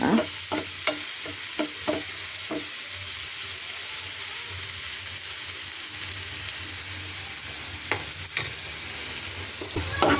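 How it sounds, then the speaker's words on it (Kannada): Onion and green chillies frying in a pan for a bendekayi palya: a continuous loud sizzle with occasional stirring scrapes and clinks, no talk over it. "ಈರುಳ್ಳಿ ಹಸಿಮೆಣಸಿನ್ಕಾಯಿ ಹಾಕ್ಕೊಳ್ಳೋಣ ಇದು ಸ್ವಲ್ಪ ಹಸಿ ವಾಸನೆ ಹೋದರೆ ಸಾಕು"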